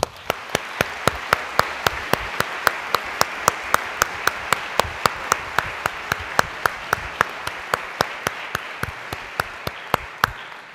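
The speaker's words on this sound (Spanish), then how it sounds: "Creo que se merecen un aplauso y se lo vamos a dar." The audience at the closing ceremony of the 29th Physics Olympiad in the Paraninfo of the University of Valladolid applauds for about ten seconds. A steady crowd wash runs underneath, with sharp, regularly spaced claps standing out close by.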